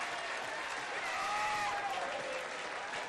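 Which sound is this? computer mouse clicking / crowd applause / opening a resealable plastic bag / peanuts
crowd applause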